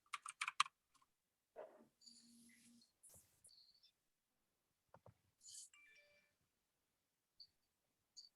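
Bursts of typing on a computer keyboard at a parks department meeting, short clattering runs of keystrokes separated by pauses, close and moderately loud in an otherwise quiet room.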